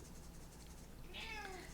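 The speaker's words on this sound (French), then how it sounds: "c'est mon chat" A pet cat lets out a single drawn-out, hungry meow close by in a quiet room, after a second of soft background hum.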